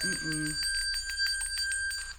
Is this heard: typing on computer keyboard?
no